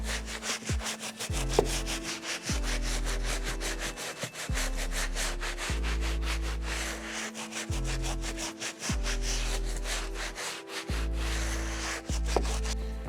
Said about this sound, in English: pump the foam onto the sole like so and use our medium brush to get into those little gaps